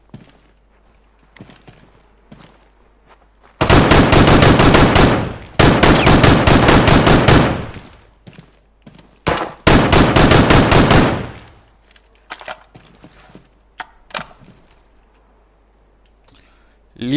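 Loud bursts of automatic gunfire from the survival shooter game Deadside: three long sustained volleys with a brief single shot between, then scattered quieter shots afterward.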